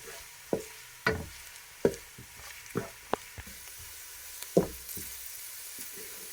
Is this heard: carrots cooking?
yes